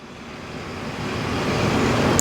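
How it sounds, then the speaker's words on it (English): Steady, swelling road rumble of a truck passing close outside, growing slightly louder over a couple of seconds with no talking. "I don't know if you could hear the truck currently out there."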